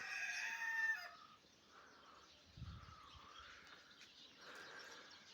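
A rooster crows loudly at the start, then chickens settling at roost in the evening murmur and cluck softly, with a couple of low thumps of birds settling in.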